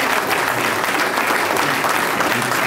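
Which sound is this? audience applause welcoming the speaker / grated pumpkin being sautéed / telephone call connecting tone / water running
audience applause welcoming the speaker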